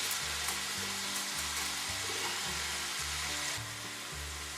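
Garlic sautés in a butter mixture in a pan, giving a steady close sizzle and hiss over a low rhythmic background hum, with no talking.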